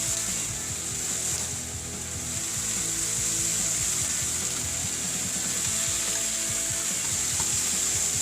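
A pork chop sears in a hot pan with a steady, bright sizzle, close and constant, with occasional faint knocks underneath.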